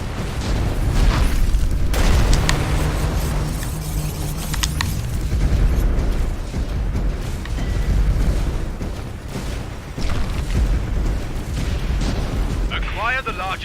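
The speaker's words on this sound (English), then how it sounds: "Fire the frostbite cannon." A frostbite cannon fires in the tower-defense game X-Morph: Defense, delivering deep booming blasts and rumbling impacts that roll through a dense, loud battle mix for the full stretch, with a sharper burst near the end.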